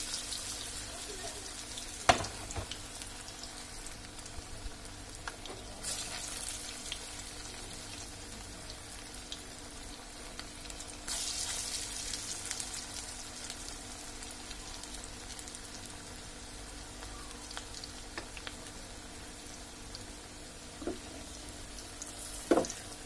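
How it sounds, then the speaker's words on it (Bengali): Lentil fritters (piyaju) frying in oil over medium heat, a soft continuous bubbling sizzle with occasional sharper pops and clinks, fairly quiet and close, with no talk over it. "আমরা এগুলোকে মিডিয়াম আঁচে ভেজে নেব।"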